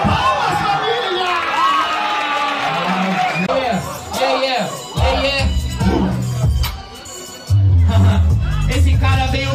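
A loud crowd roars and cheers, with whoops and shouting voices rising and falling over several seconds.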